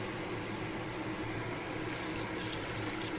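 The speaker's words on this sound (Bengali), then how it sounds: "এর মধ্যে আমি জল দিয়ে দেব" Water poured steadily into a cooking pot holding a little sugar in a home kitchen, a continuous close rushing splash that stays even throughout, with no talking.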